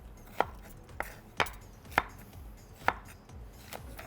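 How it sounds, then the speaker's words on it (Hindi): A knife chops through onion on a board, six or seven crisp, evenly spaced cuts with quiet pauses between. "अनियन को इस तरह से आपने काटना है।"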